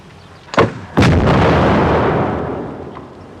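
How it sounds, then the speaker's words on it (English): Artillery fired by a gun crew: a sharp report followed by a heavier boom that rolls out into a long fading rumble, loud and alone. "Gun crew, reload. Commence firing procedure."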